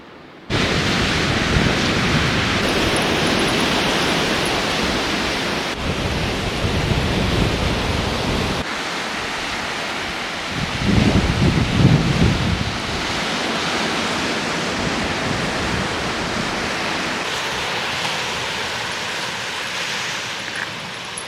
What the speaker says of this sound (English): And the river is right there.